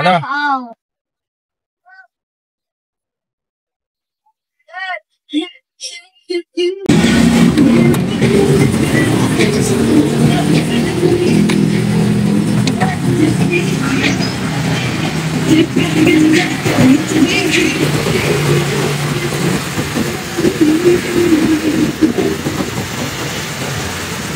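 Honda Civic LXi engine running with the hood open, heard as a loud, steady mechanical rumble close by after a few seconds of quiet with brief talk.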